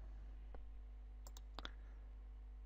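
A few quiet, crisp computer mouse clicks on an on-screen OK button, two brief taps close together near the end, over a steady low hum with no talking.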